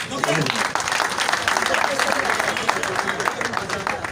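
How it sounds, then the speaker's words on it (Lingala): A crowd claps steadily for a man named Moustapha at a public gathering, a dense, continuous patter of hands filling the few seconds, with voices mixed in. "Acclamez pour Moustapha."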